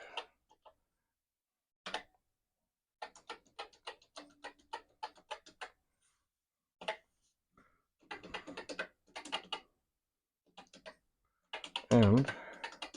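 Keys clatter on a Commodore PET computer keyboard in scattered bursts of quick clicky taps separated by pauses, close and fairly quiet, with a brief voice near the end.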